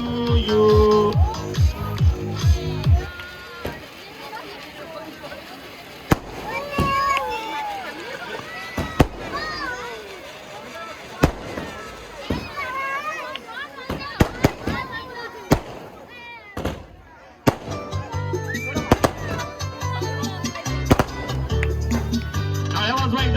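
Firecrackers crack and pop in scattered sharp bursts, some near and some farther off, at a child's first birthday celebration, while people talk and cheer throughout.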